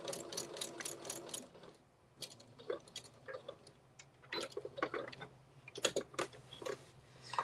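A sewing machine back stitches where two quilt-as-you-go pieces meet, giving quiet bursts of rapid mechanical ticking with short gaps between runs, close by and without speech.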